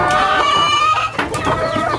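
Backyard hens squabbling, loud close clucking and agitated squawks in quick overlapping bursts, with no talk.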